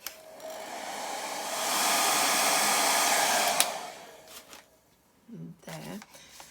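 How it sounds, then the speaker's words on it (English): A hair dryer drying wet inked pages blows with a steady roaring whoosh that swells louder for a couple of seconds, then cuts off, followed by brief rustling and handling sounds. "I'm going to use my hairdryer to dry it"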